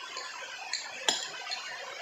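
A spoon scoops a healthy flour-free snack from a dish, giving a few faint, quiet clinks of metal against the bowl, with one sharper tap in the middle.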